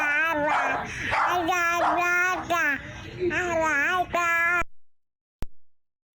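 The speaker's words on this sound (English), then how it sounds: "there's a dog barking in the background" A dog yips and whimpers in the background beside a baby's babbling in a phone demo recording, with repeated bright vocal bursts throughout before falling silent near the end, followed by one short click.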